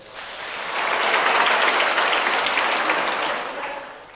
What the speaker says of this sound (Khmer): សូមអញ្ជើញទះដៃស្វាគមន៍